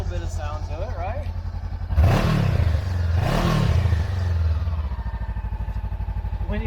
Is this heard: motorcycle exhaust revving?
yes